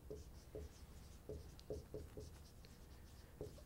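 A pen or pencil writes a maths inequality by hand, giving faint, close scratchy strokes in short irregular bursts against a quiet background.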